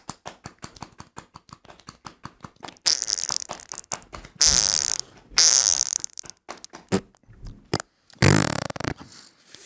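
Rapid sequence of farts: a long run of short sputtering pops, then several longer, louder, drawn-out blasts separated by pauses, close and dry, with no talk.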